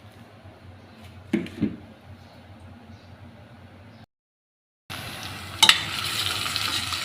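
Green chilies, curry leaves, capsicum and onion pieces fry in a pan for a mutton curry, a close hiss with brief stirring scrapes, a short gap of silence, then louder sizzling.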